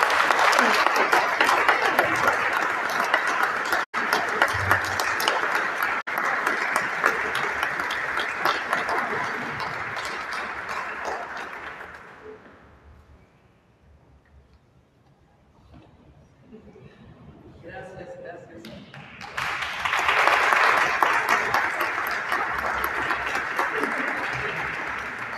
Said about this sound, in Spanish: Un aplauso para Mandú.